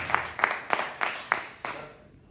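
About six loud, evenly spaced claps at a seminar closing in Jaipur, ringing with a touch of echo before fading into quiet.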